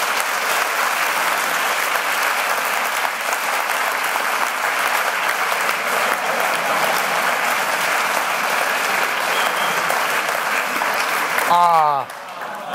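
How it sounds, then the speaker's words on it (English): A conference audience at a design talk applauds, sustained dense clapping from a large crowd that fills the room, then cuts off sharply near the end as a voice begins. "Can we applaud for you, please?"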